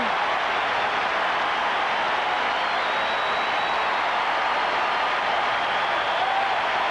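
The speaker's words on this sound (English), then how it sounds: "Nice round of applause of appreciative fans" A football stadium crowd at a 1984 NFL game between the Miami Dolphins and the Pittsburgh Steelers applauds a play, a steady, dense wash of clapping and cheering that holds evenly throughout without talk.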